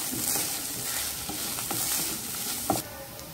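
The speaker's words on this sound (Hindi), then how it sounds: "अब मैं इसमें डाल दे रही हूँ कटी हुई प्याज और इसको अच्छी तरह से मैं" Chopped onions with ground ginger fry in a hot pan for dal, a steady close sizzle with occasional scraping stirs, no voices.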